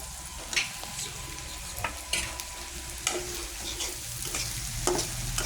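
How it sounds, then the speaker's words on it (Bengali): Curry with garam masala paste is stirred in a pan, a continuous sizzle punctuated by regular spoon scrapes and taps roughly once a second, close and clear. "গরম মশলা বাটা দিয়ে দিলাম। দেওয়ার পর কিছু সময় নাড়াচাড়া করব।"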